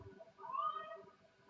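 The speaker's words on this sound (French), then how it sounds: "C'est qui ce chat?" A cat gives a single soft, drawn-out meow that rises and falls, heard faintly against low background noise.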